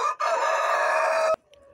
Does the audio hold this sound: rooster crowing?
yes